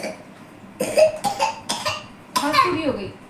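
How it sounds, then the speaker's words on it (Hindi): A small child coughs in a series of short, sharp bursts, four or five coughs in quick succession, close to the listener, with a little voiced sound mixed in. "खांसी भी हो गई।"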